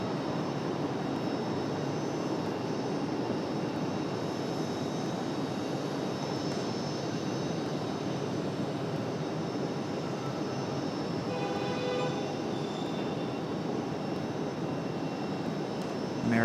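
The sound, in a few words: American Airlines Boeing 737 jet taxiing out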